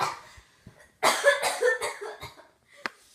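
A girl coughs several times in a rough, choking burst close to the microphone, followed by a brief sharper cough after a pause.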